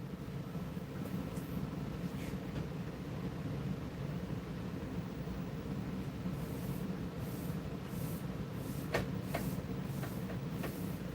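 A printer running, a low steady mechanical hum and rumble with occasional faint clicks and ticks, quiet and continuous throughout.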